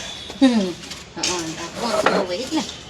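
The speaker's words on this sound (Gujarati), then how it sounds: "મારા મમ્મી ભગવાનના વાસણ ધોશ" Metal pots and utensils clank and ring against each other as they are washed, several sharp knocks and scrapes close by, with brief voices nearby.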